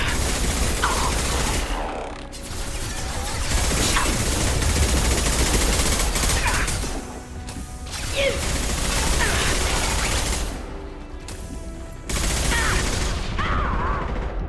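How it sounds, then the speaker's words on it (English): Heavy gunfire from a big gun in Mass Effect 2 roars in long loud bursts, broken by short pauses, with rattling mechanical clatter between volleys. "Time to bring out the big gun."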